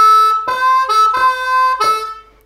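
A blues harmonica plays a short lick, four clear sustained reedy notes separated by breathy attacks, loud and close, trailing off at the end, with no talking.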